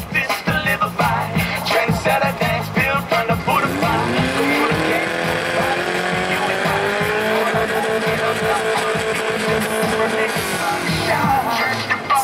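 Offroad car at an offroad competition in Niğde, engine revving hard and sustained with tire noise, loud and continuous over crowd noise and music.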